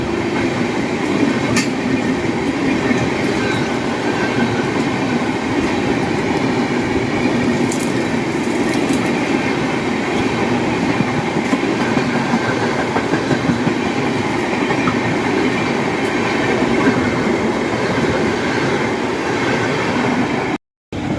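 Heavy passenger express train running alongside on Tilak Bridge, with a continuous rumbling roll and rhythmic clickety-clack of wheels over rail joints, close and loud throughout, with occasional faint squeals.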